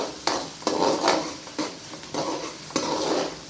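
Onions fry in hot oil for chicken fried rice, a moderate sizzle broken by sharp metallic clanks of a spoon against the pan roughly every half second.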